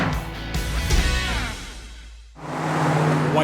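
A Ford 289 V8 in a classic muscle car growls and revs, the engine note rising and falling before a brief dip in level, then building again to a loud, steady roar.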